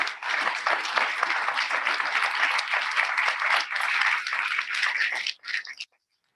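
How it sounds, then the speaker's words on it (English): An audience applauds retirees of a school district at a board of education meeting: dense, steady clapping from a room full of people that breaks off abruptly near the end, with a brief last flurry. "please give one more round of applause for our 2021 retirees."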